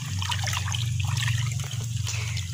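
A liquid pesticide mixture of growth regulator and amino acids is stirred in water for a young bitter melon crop, giving a steady close trickling and sloshing throughout, without speech.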